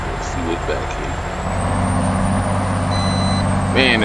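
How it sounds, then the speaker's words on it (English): A 1650 HP Freightliner Argosy truck in American Truck Simulator rumbles with a deep engine drone that swells louder midway, with a brief air hiss near the end. "Man, that truck sounds good."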